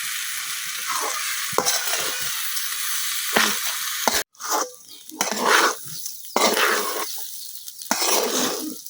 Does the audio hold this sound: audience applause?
no